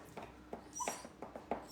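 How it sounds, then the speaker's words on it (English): A dog squeals in sharp, high-pitched squeaks to get attention, about five short whimpering yips in an uneven rhythm, fairly close and alone with no talk. "He learned that squeaking really high pitch gets attention, and he just does that now."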